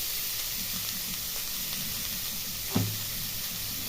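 Grated cauliflower frying in a pan, a steady soft sizzle running throughout with a brief louder scrape or stir near the end.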